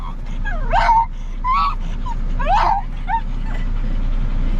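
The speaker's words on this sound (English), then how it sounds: "He's barking at everybody." A dog gives several sharp, high yips and barks in a quick uneven series, moderately close, over a steady low engine-like hum.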